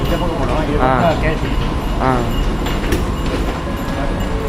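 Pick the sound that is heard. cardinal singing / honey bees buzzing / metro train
metro train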